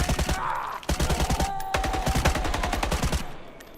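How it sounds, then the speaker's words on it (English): Rapid gunfire from the online survival shooter The Day Before, with bursts of shots firing in a steady, fast rhythm for several seconds, loud and close, with no talking over it. "we can hear what the guns sound like in their most natural form"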